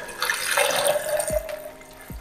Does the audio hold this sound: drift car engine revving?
no